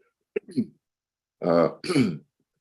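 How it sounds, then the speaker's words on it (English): A short throat sound, then two louder, raspy throat clearings close to the microphone, with silent gaps between them. "Clear my throat."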